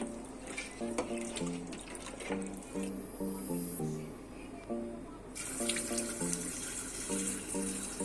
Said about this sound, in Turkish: Zeytinlerimizin üzeri basana kadar tuzlu suyumuzu koyuyoruz.